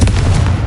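A Confringo fire spell blasts off in Hogwarts Legacy inside a closed, tomb-like mine: a loud, close boom with a rumbling low burst that fills the whole short moment.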